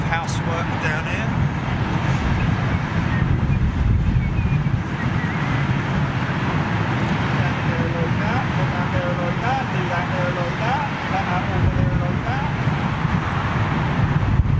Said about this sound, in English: the wind is really, really picking up